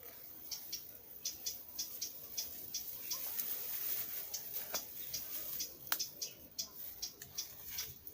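Birds call on Tai Mo Shan mountain, giving faint, repeated short high chirps that tick along irregularly over a quiet outdoor background.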